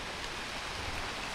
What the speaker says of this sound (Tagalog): Lakas ng ulan aba.